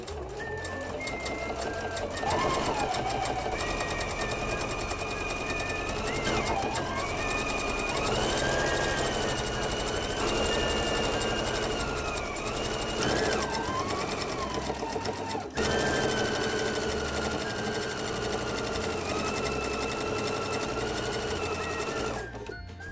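Sewing machine stitching several fabric layers of a pennant bunting banner with bias tape, a steady close mechanical whir and rapid needle clatter running continuously, pausing briefly midway.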